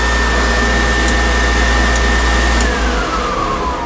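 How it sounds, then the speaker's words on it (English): A 12-volt blower motor in a 1955 Chevy truck runs as a steady, loud fan whoosh with a constant whine that dips in pitch near the end. "it's a heck of a hurricane blower motor if it is"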